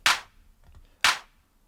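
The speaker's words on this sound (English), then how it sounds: "second clap," Two sharp, bright clap hits about a second apart in a deep house loop, each punchy with a short decaying tail, faint soft ticks between them.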